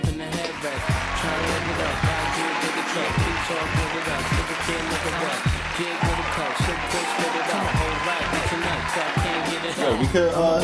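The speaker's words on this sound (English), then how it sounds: "Get some applause. We need some applause." Applause from a party audience with scattered whoops, dense and continuous at moderate level throughout, with low thumps and chatter mixed beneath.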